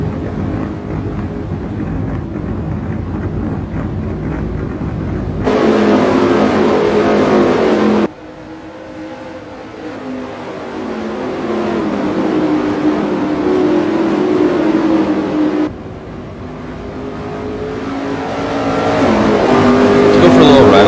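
Street stock race car engines in a racing game roar continuously, loud and close, with shifting pitch as cars accelerate and change position, while commentators talk over the top.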